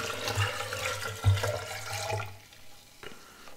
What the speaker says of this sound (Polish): Zalewamy to wodą po prostu.